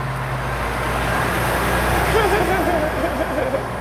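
Steady road traffic rumbles nearby, a dense roar of passing cars and heavier vehicles with a faint whine rising and falling, while a person talks over it.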